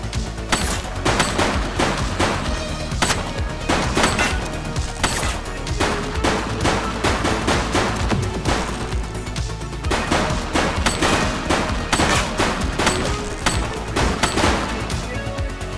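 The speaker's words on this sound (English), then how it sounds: "He's shooting!" Rapid, sustained gunfire from the Xbox Series X police game Precinct, dense volleys and bursts of shots crackling continuously at close range, loud throughout with no pause.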